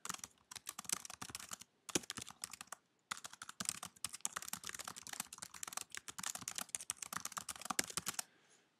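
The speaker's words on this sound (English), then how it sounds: "You want to be typing content into the visual section." Rapid keystrokes on a computer keyboard while page content is entered into a dealership website, in quick close bursts broken by short pauses, with no talking.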